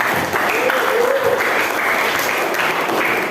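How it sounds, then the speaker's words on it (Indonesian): Students in a classroom applaud their classmates' group presentations, steady dense clapping from a small crowd that fills the room for a few seconds, with a faint voice audible partway through. "Tepuk tangan dulu buat semuanya"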